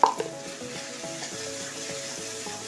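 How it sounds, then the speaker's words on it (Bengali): Spice masala with tomato and salt sautéing in a pan for Bengali bhoger khichudi, a steady close sizzle with faint stirring scrapes and a couple of light clinks at the start. "ভালো করে মশলাটাকে কষতে হবে।"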